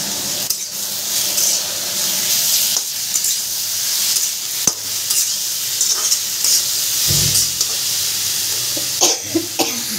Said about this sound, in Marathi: डाळ बनवून घेतली, तडका दिला डाळीला.